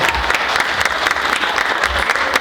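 An audience at a closing ceremony gives sustained applause, dense steady clapping from a crowd with a few louder claps standing out.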